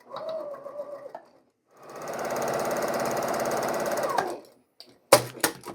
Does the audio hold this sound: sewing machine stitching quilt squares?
yes